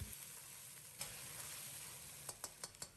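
Aromatics and sauce stir-fry in a wok over medium heat, a steady close sizzle with sharp spatula scrapes and clacks against the pan toward the end.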